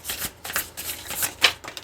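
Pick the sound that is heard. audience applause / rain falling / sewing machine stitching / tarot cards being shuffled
tarot cards being shuffled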